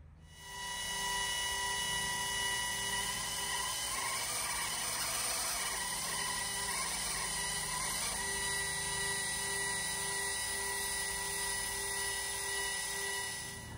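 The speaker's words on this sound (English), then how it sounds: "what you just heard, where the motor was fluttering a little bit and even speeding up and then going back down to normal" A Celestron CGX telescope mount motor whirs steadily and close up, its pitch fluttering and rising before settling back to an even drone.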